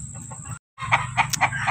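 Backyard Sweater breed chickens cluck in a series of short, clustered calls close by, with a brief gap of silence early on and no talk.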